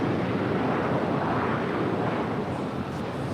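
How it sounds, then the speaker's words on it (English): A two-year-old Delta Airlines Airbus A220-100 airliner preparing to depart from LAX gives a steady, broad jet roar that is continuous and moderately loud, with wind buffeting and no voices. "That is Delta Airlines Flight 1440 about to depart to Portland. It's a 2-year-old Airbus A220-100."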